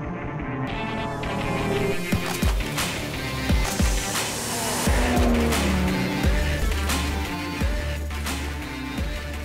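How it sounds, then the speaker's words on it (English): A BMW 4 Series with a six-cylinder engine runs loud and close, a deep steady throb with swelling revs and occasional sharper surges throughout. "as you can hear, that is a 6-cylinder"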